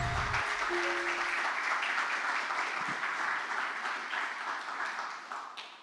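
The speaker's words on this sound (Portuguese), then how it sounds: "Você pode dar uma salva de palmas ao Senhor Jesus Cristo?" A congregation at a missions worship service applauds the Lord Jesus Christ; sustained, even clapping filling the room, tapering slightly toward the end, with a brief tone sounding at the start.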